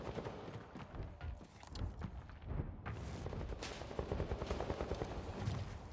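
Gunfire in Vampire: The Masquerade – Bloodhunt, a battle royale game, with rapid bursts of shots and sharp cracks crowding together, busy and fairly loud, and the pace picks up in the second half.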